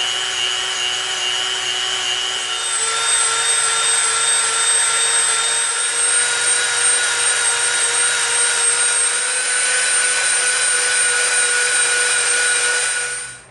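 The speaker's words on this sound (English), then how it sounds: "We're going to get our Dremel out and we're going to start rounding this barrel off." A Dremel rotary tool rounds off the square edges of an EVA foam pistol barrel, giving a steady high-pitched whine with a grinding, rubbing hiss that holds level and close throughout before cutting off at the end.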